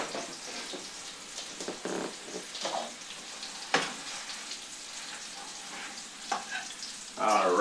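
Large wild-caught shrimp, vegetables and mushrooms sizzle quietly in a wok, with soft stirring clatters and a brief louder burst of frying near the end.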